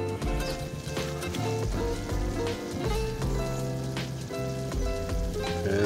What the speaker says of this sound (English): The water's mostly gone, and you're starting a frying sound.